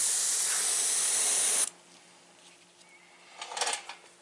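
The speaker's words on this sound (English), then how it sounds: "My left hand doesn't airbrush quite as good as my right." Airbrush spraying paint onto a T-shirt: a steady, close broadband hiss for about a second and a half, then it cuts off, leaving quiet room tone with a short burst of faint spray near the end.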